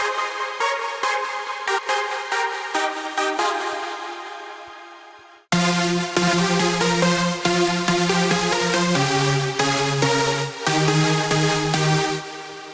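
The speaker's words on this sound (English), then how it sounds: "I really like playing with harmonics and overtone notes on my melodies, and it sounds like this." A big room techno synth lead plays a melody built on harmonics and overtone notes. It starts as a decaying plucked phrase, then cuts to a loud, bright sustained line with shifting tones. No one speaks over it.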